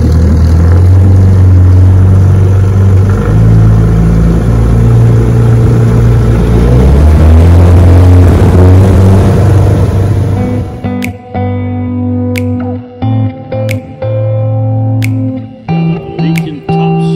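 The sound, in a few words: 1966 Johnson 9.5 HP outboard motor running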